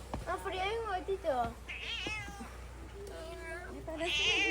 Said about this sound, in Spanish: Afuera hay un gatito.